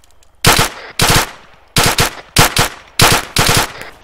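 Loud bursts of automatic gunfire in the ArmA III shooter game crack out in five or six sharp volleys at roughly half-second intervals, each a short rattling cluster of shots, close and unaccompanied by talk.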